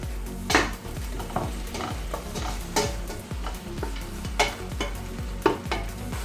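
Ground ginger, garlic, clove and cinnamon paste sautés with onions in a pan for soya biryani, with a steady sizzle under repeated scraping strokes of a spoon against the metal.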